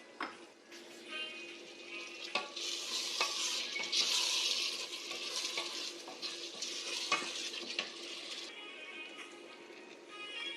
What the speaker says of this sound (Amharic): እናማስለዋለን።